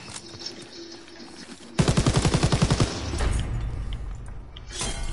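Rapid burst of automatic gunfire in Call of Duty WWII zombies mode, a dozen evenly spaced loud shots over about a second, followed by a rumbling blast-like wash of noise that slowly fades.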